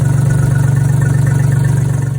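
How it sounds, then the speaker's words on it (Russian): A Skoda Fabia 1.2 engine, freshly rebuilt and on first start, runs at a steady, rough idle close by with no exhaust attached, a loud low rumbling drone. "Вот сейчас выхлоп вообще не прикручен, поэтому бурчит."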